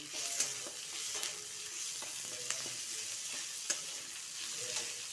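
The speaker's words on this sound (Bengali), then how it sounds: "টমাটোরটা একটু ভেজে নেব।" Tomato frying and being stirred in a pan for paneer masala after the onions have browned: a steady close sizzle with repeated spatula scrapes and clicks, no voices.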